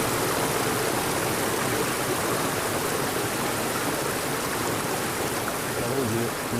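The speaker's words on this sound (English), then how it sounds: "It is created not by the power of the earth, but it is created by the sound of the creek." A creek with small rapids rushes and burbles in a steady, dense wash of water noise that stays constant and fairly close throughout.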